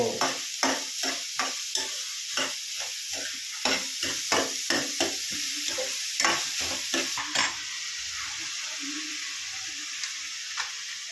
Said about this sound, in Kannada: ಈರುಳ್ಳಿನ ಕೆಂಪಗಾಗೋ ಥರ ಹುರ್ಕೋಬೇಕು.